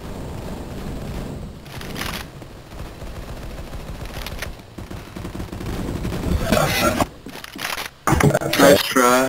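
Gunfire in a competitive Counter-Strike: Global Offensive match on the Cache map, rapid bursts and sharp shots growing louder and denser toward the end, mixed with players talking over voice chat.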